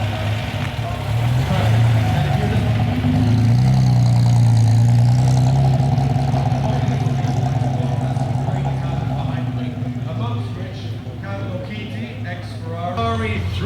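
A Ferrari 330 GTG Speciale rumbles along in the Concorso d'Eleganza Villa d'Este 2023 parade, its engine loud and continuous with swelling revs beneath people talking.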